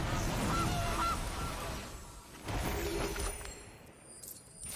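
A goose honk from the Gilded Goose card in the digital card game MTG Arena: a synthetic, slightly glassy honking effect that fades into a quieter shimmering tail, with no voices.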